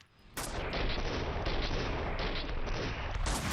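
Gunfire in the video game Max Payne 2, a loud, dense burst of rapid shots and booms that starts abruptly and continues almost without pause.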